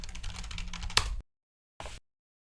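Fast, close typing on a computer keyboard, a dense run of key clicks that stops abruptly, followed after a short silence by a brief second burst of keystrokes.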